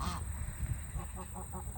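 Pilgrim and Emden cross geese honking outdoors, several short nasal calls in quick succession, fairly faint over a steady background hum.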